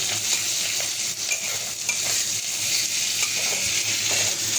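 Chopped, slit green chillies fry in a hot pan with a steady, close sizzle and crackle, stirred now and then, with no talking.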